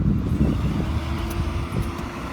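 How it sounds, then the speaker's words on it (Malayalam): An army vehicle passes along a road in Gulmarg, Kashmir, producing a steady low engine rumble that stays fairly even throughout, with no voices over it. "ആർമീൻ്റെ വണ്ടി ഇത് പോണ്."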